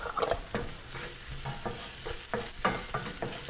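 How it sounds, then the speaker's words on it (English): Bell peppers sizzle in a hot pan with softened vegetables for an aqua pazza poached snapper dish, with repeated close scrapes and clatters of stirring over a steady frying hiss. "I'm going to go ahead and add my peppers."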